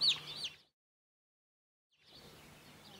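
Chickens in a coop on a smallholding with 48 birds give a brief burst of clucking, then fall silent before a soft low murmur of movement returns.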